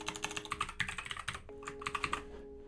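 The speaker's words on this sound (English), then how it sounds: "I type in aspect, and then I should type in silver" Typing on a computer keyboard, a quick run of close, light key clicks in an uneven rhythm, with a short pause near the end.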